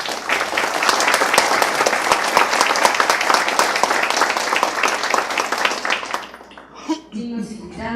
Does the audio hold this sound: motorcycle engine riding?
no